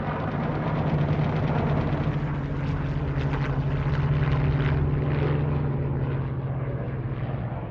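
Propeller-driven Japanese torpedo planes and bombers in a dogfight drone steadily and loudly, the engine roar holding without a break throughout.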